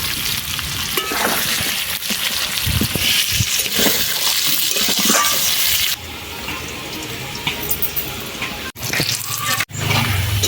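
Potatoes tossed with salt, turmeric and Kashmiri chilli powder fry in hot oil for a mutton curry, giving a loud, steady sizzle with occasional stirring scrapes and brief dips in the crackle.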